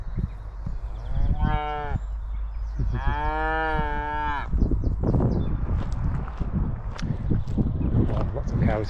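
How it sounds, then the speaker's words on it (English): Cows moo loudly and close by in a field near a church, two long lowing calls followed by rustling and footsteps. "lots of cows"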